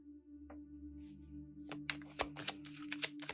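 Tarot cards riffled and drawn for a pick-a-card reading, a run of crisp papery flicks and snaps over a low steady hum, close and fairly quiet with no talking.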